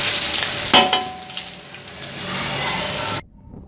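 Steady sizzling of cumin and garlic frying in hot oil, with a brief clatter of stirring near the start and a sudden cut to near silence at the end.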